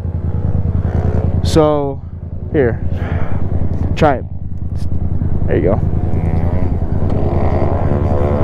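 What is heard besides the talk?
motorcycle engine as rider lets the clutch out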